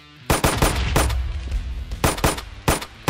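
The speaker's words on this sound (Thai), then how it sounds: "เราต้องกดต่ำนะครับเนื่องจากปืนมันดีดมาก" Rapid bursts of automatic gunfire from a weapon in a Free Fire–style mode of the video game Minecraft, loud and close, in several sharp volleys with brief pauses between them.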